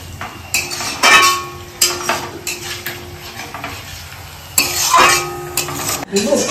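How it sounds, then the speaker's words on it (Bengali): A spoon scrapes and knocks against a pot while egg biryani is gently stirred over low heat, in several loud, separate strokes with quieter clinks and a faint sizzle between them. "এবার কি হালকা নেড়ে দিতে হবে, একটু নেড়ে দিতে হবে"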